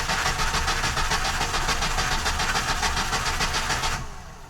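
A Peugeot 505 GL with a carburetor engine cranks continuously with a steady rhythmic churning that stops abruptly near the end, loud and close with no talk.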